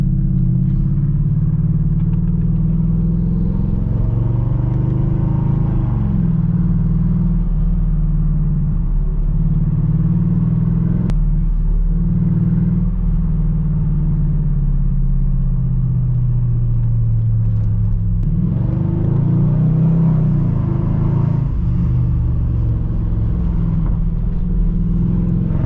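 A Mercedes CLS500 drives along with a loud, deep engine drone, its steady rumbling note rising and falling as the revs shift, continuous and close with no talking.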